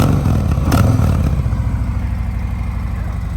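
A 2019 Harley-Davidson Sport Glide motorcycle runs with a deep, rhythmic loping engine pulse, a brief blip of revs near the start then settling into a steady close throb.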